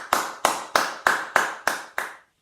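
Seven quick, evenly spaced quaver beats are sounded as crisp clap-like hits about a third of a second apart, close and alone.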